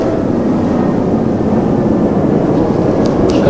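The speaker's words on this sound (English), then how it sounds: "here's a rumbling noise from the airplanes going by" Loud, deep rumbling of an airplane passing overhead, a steady low roar that fills the whole stretch without any break.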